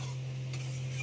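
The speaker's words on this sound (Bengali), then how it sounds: "আজকে মা বাবা দুজনে মিলে রান্না করছে" Two people cook together at home, stirring food in a pan with a soft, steady sizzle and faint scraping under a constant low hum, heard alone without talk.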